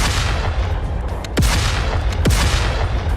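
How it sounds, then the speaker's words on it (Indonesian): A big explosion effect in an animated fantasy battle scene: two sharp, booming blasts with falling whooshes over a dense, roaring background. "Dan kemudian, ledakan besar terjadi."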